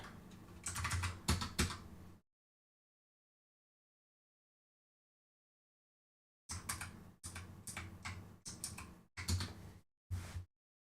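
Close keyboard typing on a computer during a game-programming session, in a short burst of rapid keystrokes, then a long silence, then several more quick bursts separated by brief pauses.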